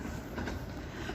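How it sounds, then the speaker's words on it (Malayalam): A train rolling along a track laid down the middle of a road, heard as a faint, low continuous rumble with no talk. "റോഡിന്റെ നടുക്ക് കൂടെ ട്രെയിൻ പോയിക്കൊണ്ടിരിക്കുകയാണ്."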